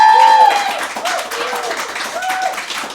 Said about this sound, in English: Let's give him another round of applause, shall we?